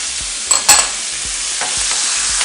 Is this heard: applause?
no